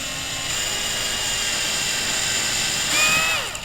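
Near and loud, a drill whines steadily as it bores through the plastic trunk panel of an A90 Supra. Toward the end the pitch sweeps down sharply as the bit breaks through and spins down, with no voices.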